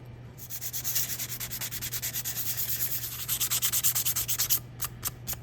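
Fine 220-grit sandpaper rubbed over a car's fresh air vent door, a steady run of rhythmic back-and-forth rasping strokes, close and fairly loud, with a few final separate strokes at the end.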